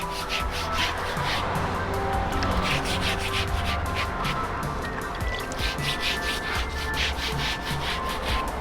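Roof tiles are scrubbed clean of dirt and moss with continuous, close, rough rubbing strokes in a steady rhythm throughout.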